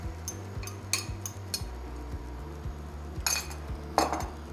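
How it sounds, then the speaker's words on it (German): Eggs go into a frying pan with rendered fat for breakfast quesadillas, bringing close metallic clinks and taps of utensil on pan and a few brief louder scrapes over a low kitchen background. "Und dann kommen einfach die Eier in die Pfanne."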